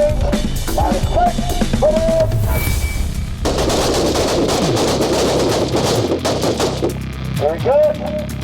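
Gunfire on a shooting range during a drill, rapid shots crackling loudly and densely across the whole stretch with brief pauses, while people talk over it.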